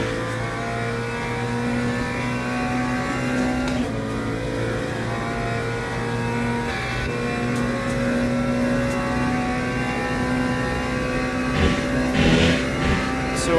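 A race car engine in the Le Mans Ultimate sim drones steadily down a straight, holding a constant high-revving tone at a fairly loud, even level throughout with slight pitch shifts near the end.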